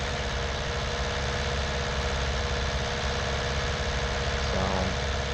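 A tractor engine in Farming Simulator 19 drones steadily throughout, a loud, even mechanical rumble with a constant vibrating hum and no pauses, while the tractor pulls a mower.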